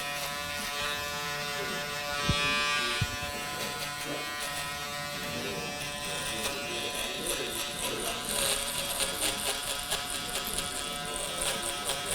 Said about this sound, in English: Now I'm just gonna get my shaver, just clean up these areas with the stubble.